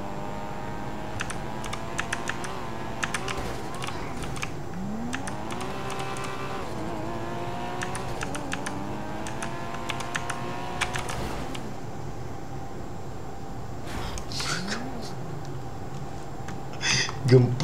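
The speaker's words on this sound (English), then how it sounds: "Kuat lagi kena bunyi keyboard tu je" Typing on a broken computer keyboard: rapid, loud clacking keystrokes in bursts, close by, over a racing-game engine whine with rising and falling pitch sweeps, and a voice briefly talking.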